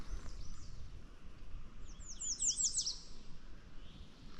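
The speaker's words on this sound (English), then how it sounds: "There's just a big variety of birds singing." Faint birdsong on the Appalachian Trail: a quick series of high, bright chirps rises over quiet outdoor background, with softer calls scattered around it.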